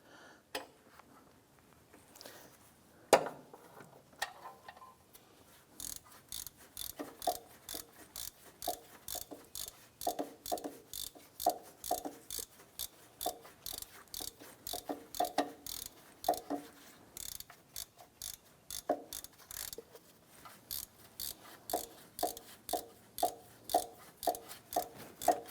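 Ratchet snugging down bolts on a 2001-2005 Honda Civic engine during timing belt and water pump work, rapid close clicking in repeated bursts with brief pauses between strokes.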